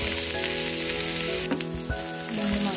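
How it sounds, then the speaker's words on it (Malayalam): Onions fry in a pan for prawn masala, a steady close sizzle with a couple of sharp stirring clicks, no talking. "ഒണിയൻ നന്നായിട്ട് ഫ്രൈ ചെയ്ത് വന്നിട്ടുണ്ട്."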